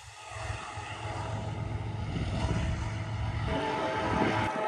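A Canadian Pacific ES44AC diesel locomotive leads an ethanol train, its engine droning low as it nears and the rumble swelling louder toward the end, with a horn-like tone layered in.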